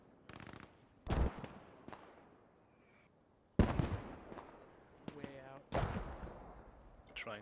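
Mortar shells exploding in the World War II shooter Post Scriptum, several sharp booming blasts spread unevenly across the stretch, some near and loud, others softer, with game noise and brief voice snippets between.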